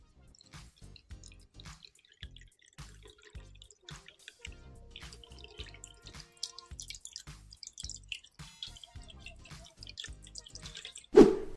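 Water splashes and drips in irregular, close, crisp bursts while filling a homemade clay cooler, with a louder thump at the very end.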